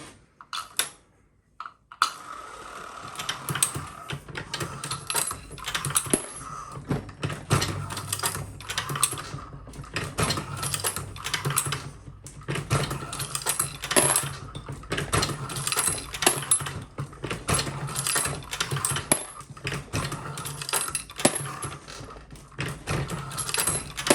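Metallic clanks and clicks from a Lee Pro 1000 reloading press decapping dirty mixed 9mm brass repeat steadily at close range, with occasional sharp pops of spent primers and rattles.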